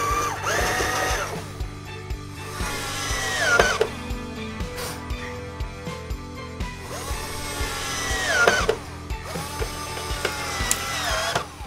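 A power drill whirs in two long bursts, winding up and down as it drives screws into wooden crates, with clicking and knocking between runs.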